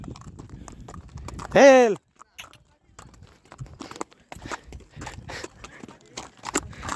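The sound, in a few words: horse hooves clip-clopping while riding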